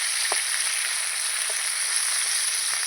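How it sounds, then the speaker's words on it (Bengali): Steady, loud sizzling of pointed gourd frying in oil in a pan, with a few soft scraping stirs, no voices. "এই যে বারে বারে একটু নেড়ে চেড়ে নেব তাহলে পটলগুলো সুন্দর ভাজা হবে"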